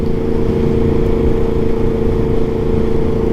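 A 2023 Yamaha MT-10 motorcycle's exhaust runs at a steady, close, even drone with no revving, alone and without voices.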